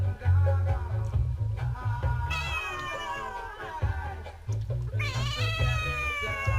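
A cat meows close up, giving two long, drawn-out, wavering cries with a short gap between them over low background rumble.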